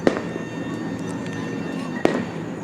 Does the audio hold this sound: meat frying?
no